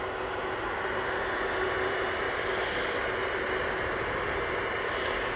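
A Ryanair Boeing 737 MAX 8 jet arrives from Cork at Manchester Airport, its engines a continuous broad roar and hiss that stays steady and fairly close for the whole stretch, with no talking.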